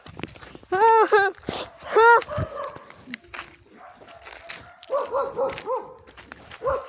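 A dog barks several times up close, loud sharp woofs in the first seconds, while people talk excitedly around it.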